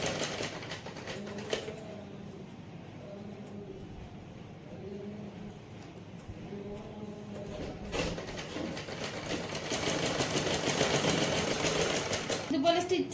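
A sewing machine stitches a kids' sleeveless frock, running in steady whirring bursts with a brief pause, then a longer faster run, close and clear, while someone talks over it.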